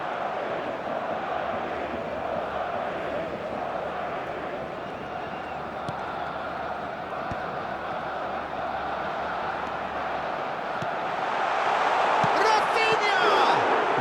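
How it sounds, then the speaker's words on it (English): A football stadium crowd roars through a continuous wall of noise during a Real Madrid versus Barcelona match, swelling louder near the end, with a commentator talking over it. "the crowd level has gone up"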